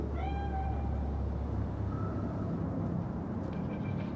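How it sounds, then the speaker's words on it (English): A cat in the video game Cyberpunk 2077 gives a short, faint meow at the start, over a low, constant rumble of city ambience. "Chill, just a cat."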